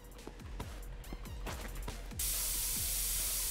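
Several soft low thuds and clicks come first, then a spray can in the game Internet Cafe Simulator 2 bursts into a sustained, even hiss for the last second or so.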